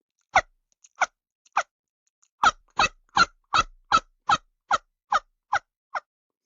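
A man imitates wild turkey calls with his natural voice: a few spaced yelps, then a rhythmic run of about ten sharp, evenly timed calls, clear and close with no background noise.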